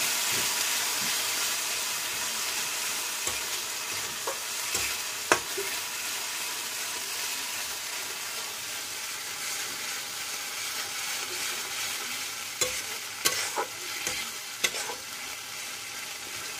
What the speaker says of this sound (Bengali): তো এইভাবে অল্প অল্প করে মশলাটাকে প্রথমে ভেজে নেব।